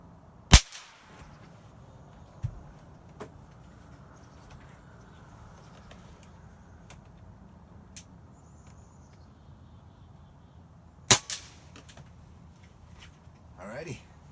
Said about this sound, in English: there's a quick comparison of 22 long rifle firing